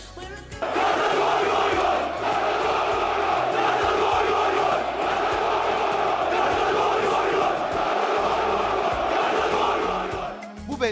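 Beşiktaş Çarşı football supporters in a stadium give a massed, full-throated chant, loud and continuous for about ten seconds, swelling in after a short quiet start and dropping away near the end.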